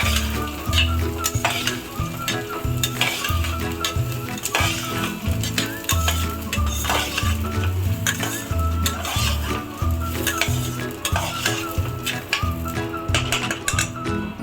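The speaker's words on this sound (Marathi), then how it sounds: "तेलामध्ये भाजून घेऊ।" Chana and soybeans roast in oil in a pan for a Maharashtrian dish, a continuous sizzle with stirring and occasional utensil clinks beneath steady rhythmic backing music.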